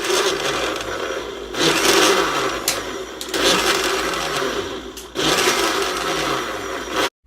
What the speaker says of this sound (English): We're just going to add it to our blender so that we can start blending.